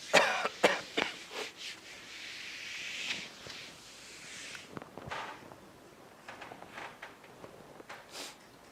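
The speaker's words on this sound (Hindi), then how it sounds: "थोड़ी सी खांसी और ज़ुकाम, गला ख़राब ये चल रहा है" A few sharp, close coughs burst out at the start, followed by softer rustling and scattered faint noises.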